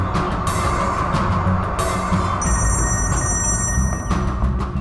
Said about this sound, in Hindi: ये फोन भी नहीं उठा रहे हैं।